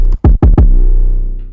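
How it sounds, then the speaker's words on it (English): Shooter 808 from the Southpaw kit: a few quick punchy bass hits with a sharp attack, then one long booming sub-bass note that slowly fades, loud and dry. "So I just pulled up this shooter 808 from that Southpaw kit."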